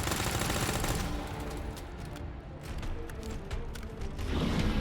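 Submachine gun fire in Resident Evil 2, the Claire second-run boss fight, sounds as dense continuous gunfire and combat noise throughout, with a louder burst near the end.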